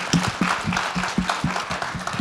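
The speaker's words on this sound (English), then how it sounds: "Can we give the staff a round of applause," A short burst of applause with clapping from a small group, steady and fairly close, lasting a couple of seconds.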